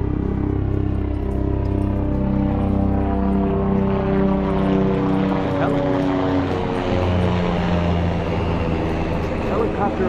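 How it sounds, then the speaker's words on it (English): A helicopter passes overhead at a beach in Southern California, its rotor thrum droning steadily throughout, mixed with a low engine rumble and wind. "Helicopter right over our heads."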